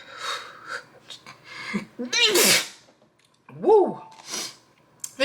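A sharp sneeze bursts out mid-clip, with a quick exclamation and brief talk around it, then another short vocal outburst follows.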